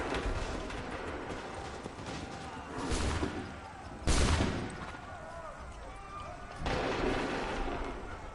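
Musket volley fire in Assassin's Creed 3, a few loud broad blasts spaced several seconds apart over a continuous din of battle, with shouted voices in the mix.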